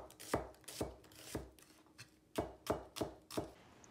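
A knife slicing vegetable (a salad green) on a cutting board, eight crisp, fairly regular chops, close and moderately loud, with a short pause in the middle and no speech.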